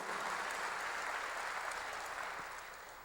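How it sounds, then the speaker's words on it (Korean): A church congregation claps together in a dense, steady wash of applause that holds evenly, then tapers slightly toward the end, with no voices over it. "박수 하나 더 해주세요."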